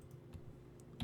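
A few quiet, isolated clicks from a computer keyboard as a shortcut key is pressed, soft and close against a faint background hum.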